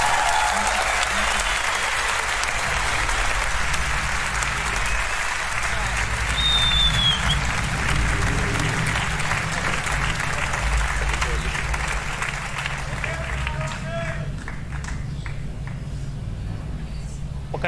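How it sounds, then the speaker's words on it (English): A large crowd at the TI8 Dota 2 championship applauds its winners in a sustained, dense wash of clapping and cheering, loud and reverberant throughout, tapering slightly toward the end. "Can we get a round of applause for your TI8 winners"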